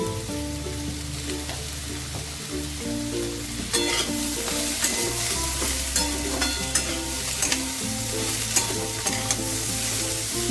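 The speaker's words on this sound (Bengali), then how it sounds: "ঝাল আর মিষ্টিটা যাতে ভালোভাবে কুমড়োর মধ্যে ঢুকে যায় সেই মতন একটু ভালো ভাজা করবো" Pumpkin pieces fry with chilli and a spoonful of sugar in a pan, a loud continuous sizzle with scattered crackles and stirring scrapes close up, no voices.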